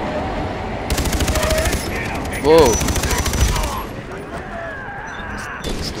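Video game gunfire in Far Cry 3 during a train sequence: two bursts of rapid automatic fire rattle loudly, with a brief bright swoosh between them, then fade to quieter game noise as a voice exclaims briefly.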